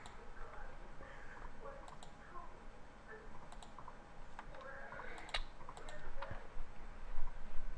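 Computer mouse and keys clicking in quick, irregular bursts while playing RuneScape, near and moderately loud over a steady background hum, with no talk.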